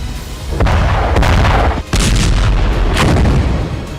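Israeli air strikes on Gaza produce loud, heavy booms and rumbling blasts in quick succession, one sharp impact briefly cutting out before the roar continues.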